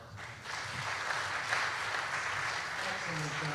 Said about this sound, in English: well, let's give them a round of applause.